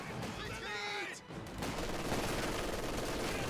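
Sustained gunfire from Company of Heroes 2, a dense run of rapid shots and bursts that carries through the whole stretch, with a brief voice or whistling tone near the start under the shooting.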